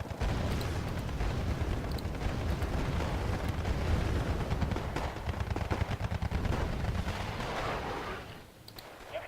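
Units opening fire in the Wargame Airland Battle video game: dense, sustained gunfire and machine-gun bursts mixed with artillery booms, loud and continuous before briefly dropping off near the end.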